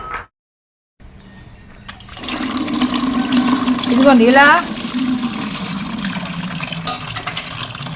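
Water is poured into rice starch to thin it, a steady splashing stream that swells for a few seconds and then settles, while someone speaks briefly.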